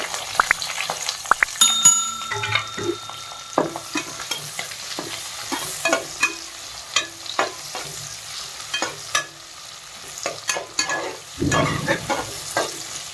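Whole spices such as cinnamon, cloves and cardamom with onion frying in a pan, sizzling steadily with frequent scraping stirs and clinks of a spoon against the metal, close and clear with no talk.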